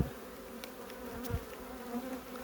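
A honeybee colony buzzes steadily inside a trap hive where a swarm has built comb beneath the super frames. The drone stays close and even, with a few brief low bumps and no voices.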